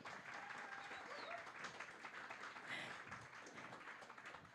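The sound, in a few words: audience applause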